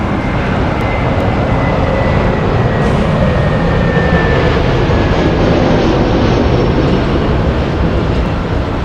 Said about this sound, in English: we do have a Delta Airlines A321 coming in from Detroit, flight 2528